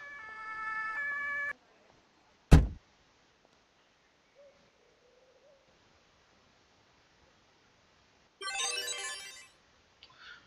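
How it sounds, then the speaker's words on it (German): A mobile phone ringtone plays a short tonal melody loud and close, then stops, and a second burst rings out later after a quiet gap, with a brief sharp swoosh between them. "Das war mein Handy."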